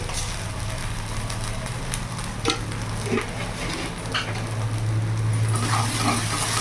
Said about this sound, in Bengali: ভালো করে একটু মিশিয়ে নেব। এরই মধ্যে সামান্য একটু চিনি দেবো।